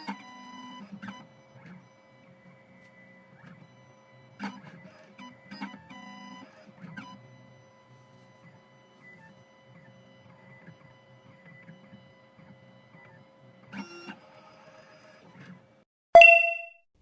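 A 2M2 Tank 2 Pro key cutting machine runs its identify cycle, giving quiet intermittent mechanical whirs and clicks over a faint steady hum, then a sharp, loud electronic ding at the end.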